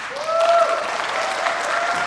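Conference audience at a small-town ideas event applauding the speakers, a steady wash of clapping from the crowd with a brief cheer or whistle, loud and sustained throughout.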